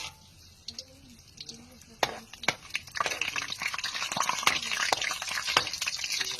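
Malunggay crackers sizzling and crackling in very hot cooking oil, a quiet start building into a dense, steady fry with sharp pops, close up, no voices.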